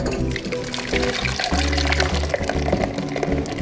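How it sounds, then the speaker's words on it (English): Grape juice mixture for Armenian sharots poured into a heavy-bottomed pan, a continuous liquid pour heard close up under a steady tonal background, with no talking. "and we pour this mixture"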